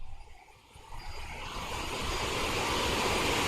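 Jet engines of a CRJ 700 airliner descending in a flight simulator, a steady broadband roar that grows louder and denser across the clip, with no talk over it.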